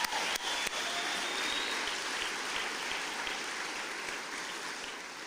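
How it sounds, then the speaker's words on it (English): Crowd at the Enough is Enough launch rally in Glasgow giving a round of applause, a steady, hissing wash of many hands clapping at a distance, even and unbroken, opening with a couple of sharp knocks. "So a big round of applause for them."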